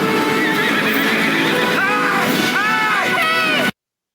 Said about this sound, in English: Gets back on his horse.